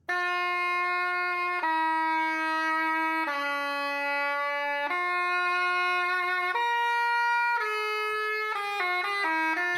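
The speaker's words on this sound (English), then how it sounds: "It's more clarinetty, another woodwind kind of instrument, which sounds like this." Pommer, a medieval reed woodwind with a clarinet-like tone, plays a slow, gloomy melody of sustained notes that turns into a quicker run of short notes near the end, solo and clear with no talking.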